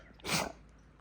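A single short, sharp sneeze from a dog, close by, in an otherwise quiet space.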